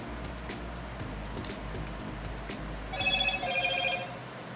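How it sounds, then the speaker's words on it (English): A telephone rings in a room where acrylic painting is underway, with a short burst of rapid electronic trills arriving near the end over a low background hum and scattered clicks. "Looks like the phone's not gonna stop."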